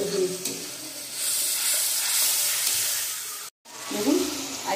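Mixed winter vegetables frying in a pan with turmeric and spices for a Bengali chorchori, a steady loud sizzle with stirring scrapes, a brief cut, then more stirring while someone talks faintly.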